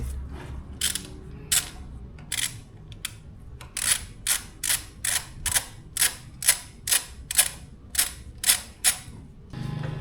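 H8 tool turning the gear oil filler screw on a BMW C400GT scooter, a series of sharp ratcheting clicks that start sparse and settle into a steady rapid rhythm, close and clear.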